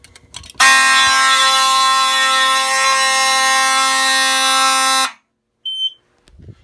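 A fire alarm blares a loud, continuous harsh tone for about four seconds, stops abruptly, then a short electronic beep follows in the quiet.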